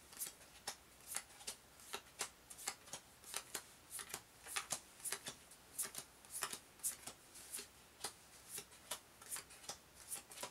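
Action cards from the Buffy the Vampire Slayer Unmatched board game are shuffled by hand, making a run of quick, crisp riffling snaps in a steady rhythm, close and fairly soft, with no talking.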